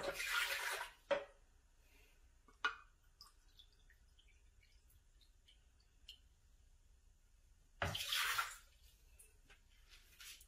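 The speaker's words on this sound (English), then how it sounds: "So first I'm just going to add a whole cup of water to each one of them." Water is poured into Vitamix blender jars in two short bursts of splashing, separated by quiet stretches with faint clinks and drips, close and fairly soft.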